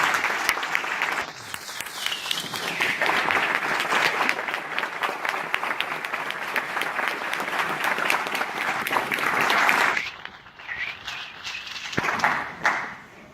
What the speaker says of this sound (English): join me in a round of applause recognizing our veterans